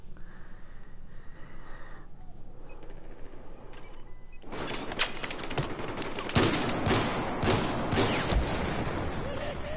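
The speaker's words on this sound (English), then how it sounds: "This shotgun is overpowered." Shotgun fire in Battlefield 4, quiet ambient rumble at first, then a burst of loud, closely spaced blasts and impacts dominating the second half.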